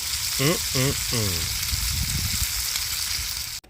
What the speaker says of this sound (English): is there really anything better than bacon cooked over a hot fire on a barbecue pit?